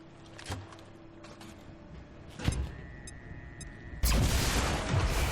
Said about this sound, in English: We'll let you throw the grenade